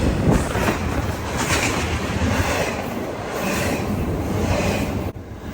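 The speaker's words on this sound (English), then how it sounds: "Soon the train is flying by me." A freight train speeds downhill past Clemson Station, a steady heavy roar of rolling cars mixed with strong wind buffeting the microphone, loud and close throughout, briefly dipping at the very end.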